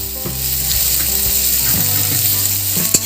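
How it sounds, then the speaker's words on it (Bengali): Pieces of sweet potato sizzle in hot oil in a pan while shukto is cooked. A steady, close frying crackle carries on throughout with no voices over it. "এবার আমি ছাড়ছি রাঙা আলুটা"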